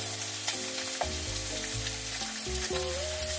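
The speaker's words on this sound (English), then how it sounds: "Put a little bit of butter in there." Food frying in butter in a pan at a campsite in an abandoned town, a constant close sizzle running under a shifting low tonal hum.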